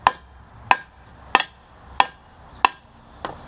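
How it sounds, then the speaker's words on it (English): Six sharp metallic hammer strikes on a car's front control arm bushing at a steady, even pace, the last one a bit softer, ringing briefly against a quiet background. "A few more swipes of the hammer"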